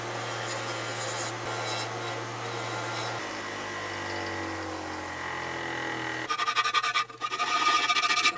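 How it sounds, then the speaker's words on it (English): A steel hand plane iron from a Defiance plane is rubbed back and forth on sandpaper by hand, a steady rasping scratch over background hum that turns louder and more gritty near the end. "I sanded both sides of this iron"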